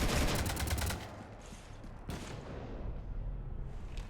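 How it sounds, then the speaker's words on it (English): Rapid gunfire in Mass Effect 3, shots hitting a ship, starting as a loud dense fusillade of quick rhythmic bursts and dropping after a second into scattered impacts and a rumbling background. No one speaks. "You want to stop shooting up my ship?"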